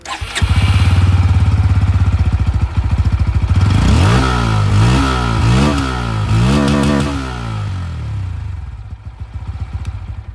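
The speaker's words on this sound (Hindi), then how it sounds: "अंडरबेली एग्जॉस्ट की आवाज़ आप लोगों ने सुन ली।" A Bajaj Pulsar N160 motorcycle with an underbelly exhaust starts and idles with a close, steady thrum, then revs repeatedly in rising and falling bursts before settling back to idle.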